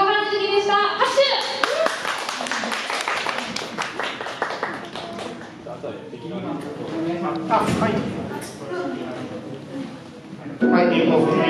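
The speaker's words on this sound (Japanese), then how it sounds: "拍手。" Applause at a small Japanese maker-fair gathering, hands clapping steadily through the whole stretch with voices talking and cheering over it, then a brief burst of louder sound near the end.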